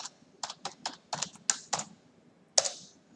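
Keys tapped on a computer keyboard to enter a command, about nine crisp, close clicks in an uneven rhythm with a short pause before a final firmer keystroke, in a quiet room.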